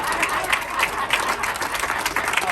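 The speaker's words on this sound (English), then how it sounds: "Y'all clap." Audience at a dedication ceremony breaking into applause, a moderately loud, continuous patter of many hands with distinct claps poking through, slightly distant in the room.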